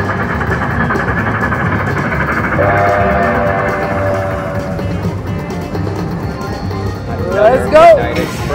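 A train sound effect plays from a Midnight Express slot machine, a steady rumbling chug with a whistle near the end. It is loud and close, with slot machine tones mixed in.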